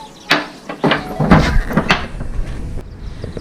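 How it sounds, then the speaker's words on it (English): A door in a hundred-year-old Kerala house is handled, with several sharp wooden knocks and thuds followed by a firm close, near and fairly loud against a quiet room. "let me close the door"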